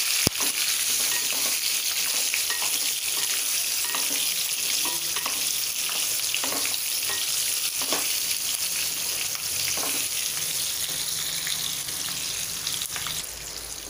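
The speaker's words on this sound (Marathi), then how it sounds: "हे मिरच्या आपण छान परतून घेऊया," Capsicum (shimla mirch) peppers sautéing in a pan: a steady, loud sizzle of frying runs throughout, broken by repeated scraping stir strokes, with no talk.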